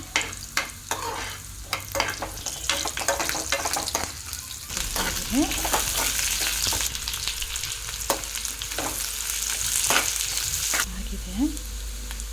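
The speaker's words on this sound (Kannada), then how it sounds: "ಈಗ ಶುಂಠಿ ಹಾಕ್ತಾ ಇದ್ದೀನಿ ಶುಂಠಿ ಫ್ರೈ ಮಾಡಿಕೊಂಡು" Ginger sizzling and frying in hot oil for fish sambar, a steady crackling hiss with occasional stirring scrapes and clinks, fairly close, without speech.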